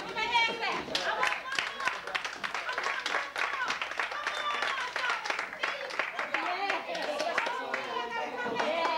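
Audience members clapping their hands, a dense patter of claps over a few seconds mixed with chatter and children's voices close by.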